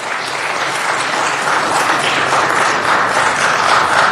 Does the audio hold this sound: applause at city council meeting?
yes